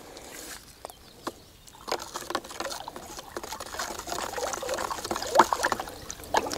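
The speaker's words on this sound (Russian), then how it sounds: "перемешиваем." Clean water in a bucket, about 10 litres mixed with a liquid fertilizer for a seedling feeding solution, is stirred, giving soft sloshing and trickling splashes that grow busier and louder over several seconds.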